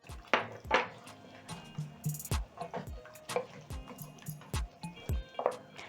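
A cup of water is poured into a pot of Kenyan githeri with beef coated in sauce: splashing liquid, drips and scattered clinks of the pot and utensils, fairly close and alone.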